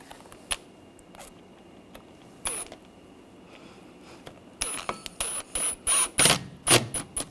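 Screws are snugged down on a 2004-2009 Audi A4 radiator and condenser fan assembly: quiet scattered clicks and taps at first, then a close run of short, sharp mechanical bursts toward the end.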